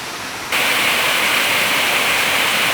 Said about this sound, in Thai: น้ำตกตาดพี่น้อง